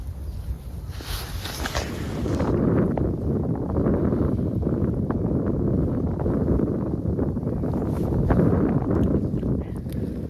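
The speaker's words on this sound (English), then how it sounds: "Really windy in this swim." Strong wind buffets a microphone at a riverside fishing spot with a continuous loud roaring rush that swells and gusts throughout, no other sounds standing out.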